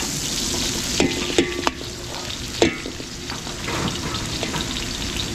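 Garlic and onion sauté in hot oil in a pan at a catering kitchen, a steady loud sizzle with a few sharp stirring clicks and scrapes of the utensil against the pan.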